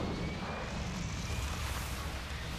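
A burning, out-of-control airliner in the film Final Destination gives a loud, continuous roaring rush of engine and wind noise, steady and unbroken throughout, with no talking.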